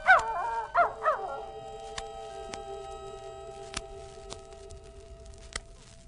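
A dog in a radio drama gives a few short yelps and whimpers up front, then a sustained howl-like tone over steady background, with sharp clicks near the end; no talk.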